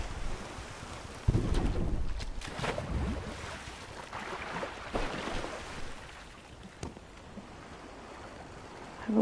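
A sailboat in Tchia glides over open water. Wind rushes and waves splash and wash against the hull, with louder gusts early on that ease to a softer, steady swash. No voices are heard.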